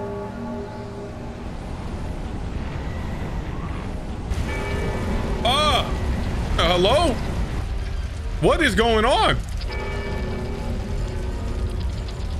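A large bell rings in Dark Souls 3, its deep sustained tones resonating over a constant rushing ambience while someone speaks briefly over it.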